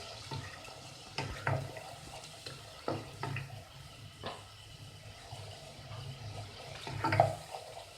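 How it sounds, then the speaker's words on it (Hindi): Masala spice paste for a potato and carrot dish fries in a pan, a faint steady sizzle broken by soft scraping stirs and occasional clinks. "अब हम इसको थोड़ी देर भूनते हैं।"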